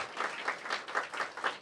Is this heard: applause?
yes